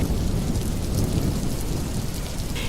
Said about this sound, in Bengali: মালা জঙ্গলটি মারাতেই শুরু হলো ভীষণ ঝড় বৃষ্টি।